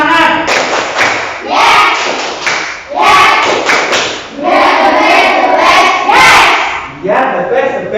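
Fourth-grade pupils in a classroom doing the 'tepuk semangat' spirit clap a second time, with loud patterned bursts of group clapping mixed with chanting children's voices throughout.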